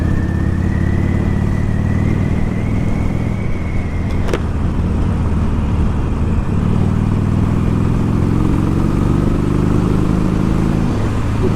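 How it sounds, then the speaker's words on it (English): Vehicle engine revving on a ride through narrow country lanes lined with high bushes, a loud continuous drone that rises and falls in pitch as the throttle opens, heavy with road and wind rumble. "It does sound nice when you give it a bit of rev through the lanes and the high bushes either side."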